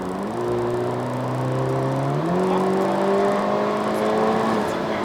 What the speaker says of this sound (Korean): 스포츠 모드로 조금 달려보겠습니다